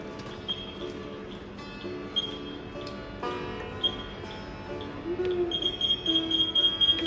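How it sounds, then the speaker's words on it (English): A UTI ullage temperature interface tape sounder beeps as its probe is lowered into a tank and reaches the ullage point. The high, thin tones come in short bursts that grow more frequent over a busy, humming background. "now you can see that the sounder is sounding and giving us an alarm of the ullage"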